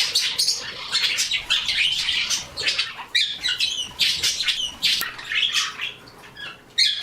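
Many pet birds in an indoor bird room squawk, chirp and tweet continuously and loudly, a dense, overlapping chorus of calls with no voices.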